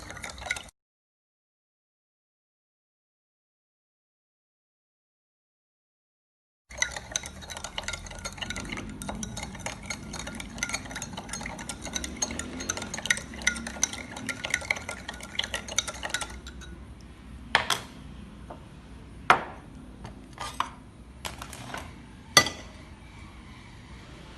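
Kitchen stirring with a spoon after adding sugar, then plates set down on top of glasses: a burst of handling noise, silence, then steady scraping and clinking followed by several sharp separate clinks near the mic.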